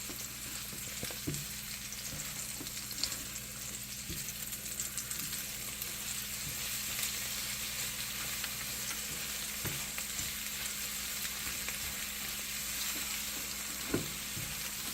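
Eggs frying in a pan, a loud continuous close-up sizzle with scattered pops and occasional knocks from stirring or the pan, steady throughout, no talking.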